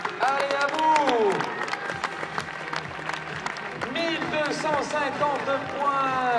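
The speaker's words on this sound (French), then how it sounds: "Vous l'applaudissez très très fort." Spectators at a show jumping event in Blaye applaud in a continuous crowd wash while an announcer talks loudly over it.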